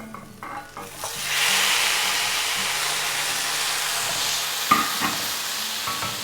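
Summer squash drops into a pan of melting butter, bursting into a loud sizzle after a few knocks, then frying steadily with a few utensil clacks.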